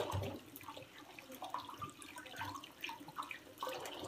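Tap water running over potatoes as they are rinsed in a kitchen sink, a faint, steady splashing with small gurgles and drips, heard close with no talking.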